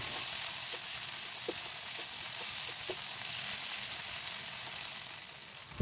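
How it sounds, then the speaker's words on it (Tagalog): Spicy shrimp paste (bagoong alamang) sizzles steadily as it is sautéed with softened tomatoes in a pan, with a few faint clinks and no talking. "Gisahin natin ito ng bahagya."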